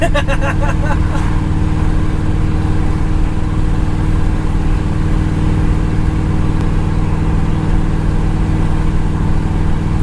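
A restored 1964 Ford Galaxie 500 on the move makes a steady, loud engine drone with road rumble, heard from inside the car and continuous throughout.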